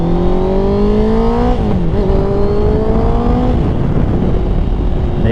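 Motorcycle on an eBay aftermarket exhaust with the baffle installed, engine revving up and down in steady loud pulls with rising and falling pitch, close and continuous for several seconds.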